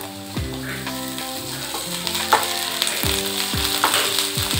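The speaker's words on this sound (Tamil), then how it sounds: "இஞ்சி பச்சை மிளகாய் நல்லா வதங்கிடுச்சு" Onions with green chili and ginger paste sautéing in a pan for fish gravy: a continuous close sizzle with repeated scraping stirs of a spoon against the pan.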